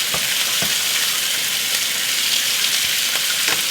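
Pork chops fry in a pan with a loud, constant sizzle and crackle, sharpened by a few brief spatters and pops, with no talking.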